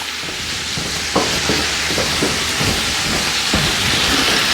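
Potatoes and cauliflower hit a hot pot, producing a steady, loud sizzle and hiss with scattered pops and crackles throughout.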